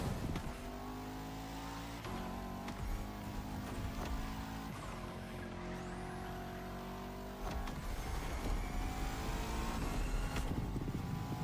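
A heavy Cadillac Escalade engine in a racing video game drones and revs steadily, shifting pitch a few times as it drives, with a brief lift in power near the end.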